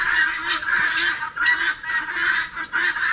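Loud, repeated harsh honking calls from guinea fowl and chickens on a farm, several overlapping bursts in quick succession, close by.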